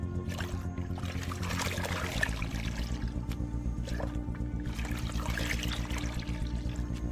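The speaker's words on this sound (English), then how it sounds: "For spraying, fill a bottle" Liquid pours steadily into a spray bottle for several seconds with a continuous splashing trickle, the flow holding an even, moderate level throughout with no talking.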